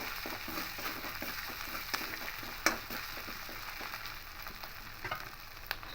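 Banana flower being stirred with grated coconut and spices in a pan, a steady soft sizzle under repeated scraping strokes of a spoon, close and fairly quiet, with one sharper knock partway through.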